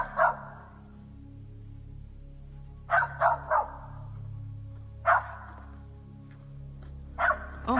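A dog barks outdoors in short bursts, a single yelp first, then a quick double or triple bark, then more spaced barks, fairly close over a low background hum.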